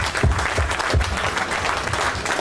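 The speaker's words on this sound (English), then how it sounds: "Let's have a big cheer for Rick Morris." A crowd at a Formula Ford festival drivers and legends Q&A breaks into sustained applause and cheering, dense clapping with a few low thumps underneath.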